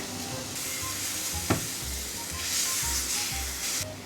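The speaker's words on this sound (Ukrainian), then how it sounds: "На розігріту пательню додаємо краплинку олії. Висипаємо чесничок та чекаємо, поки він розкриє свій аромат." Garlic sizzles in hot oil in a frying pan, giving a steady, close hiss with a crackling texture and one brief sharp spit partway through.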